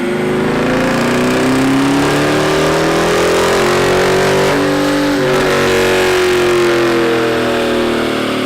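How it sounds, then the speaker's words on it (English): A 2017 Dodge Charger Daytona R/T runs on a dyno, its exhaust revving loud and close, with pitch climbing steadily through a long pull, a brief shift-like dip midway, then rising again. "And I've never heard the exhaust outside of the car before."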